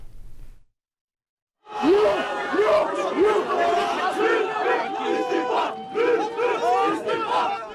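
Loud protest crowd in Hatay on the earthquake's first anniversary, targeting Özgür Özel and Lütfü Savaş, roaring with jeers, whistles and rhythmic shouted chants; a brief quiet gap gives way to a sustained dense wall of voices.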